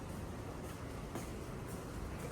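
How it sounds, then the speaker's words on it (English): A subway train rumbles through a quiet, clean metro station in Kaohsiung, Taiwan, giving a continuous loud roar with faint rail clatter and no voices. "Notice the subway stations are not that busy here."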